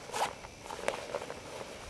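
A zipper on the top accessory pocket of an Osprey Stratos 24 backpack is pulled shut in one quick, close rasping run lasting under two seconds, with no talking.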